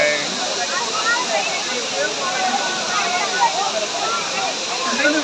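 Courtallam (Kutralam) waterfall, a steady broad roar of falling water heard from nearby, continuous and even throughout.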